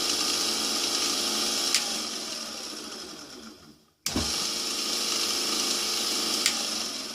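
A homemade woodturning lathe built from junk parts runs with a steady, loud motor whir that drops out briefly midway, then snaps back on and carries on evenly.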